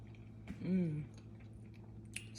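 A bite of egg and cheese is chewed close up, with soft wet mouth sounds and a brief hummed murmur of enjoyment in quiet surroundings.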